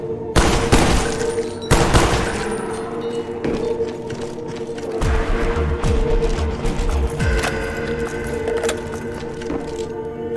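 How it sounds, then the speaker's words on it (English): Bursts of machine gun fire in a Call of Duty zombies match on PS3, loud sharp volleys at the start followed by sustained rattling shots, booms and clatter continuing throughout. "I never met an MG I didn't like."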